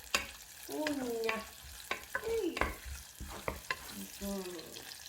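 Onions frying and being stirred in a pot for Ghanaian eto, a low continuous sizzle under repeated scraping stirs and clacks, with a few faint squeaky tones mixed in.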